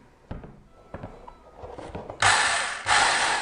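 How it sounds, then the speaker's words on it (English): A few light knocks and clicks give way to a loud, close whirring power drill biting into a plastic tub in two bursts with a short pause between. "I'm going to drill a small hole in each corner."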